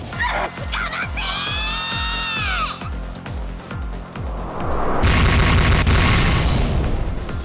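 Warships in the Umineko game fire explosive cannonballs, first a rapid rhythmic series of booming thuds under a swooping whistle, then a dense, loud roar of simultaneous blasts.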